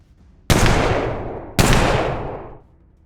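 Two heavy gunshots ring out in the Colony Ship game, about a second apart, each a loud sharp blast trailing into a long fading roar, with no talking.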